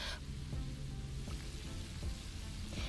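Chicken pieces for orange chicken frying in hot oil, a continuous dense crackling sizzle held at steady level throughout, fairly quiet with faint bubbling pops underneath.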